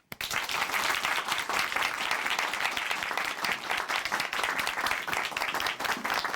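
A church audience applauds continuously to welcome a woman, a taekwondo master, to the stage: dense, even clapping from a sizeable crowd at a steady level throughout, with no voices over it.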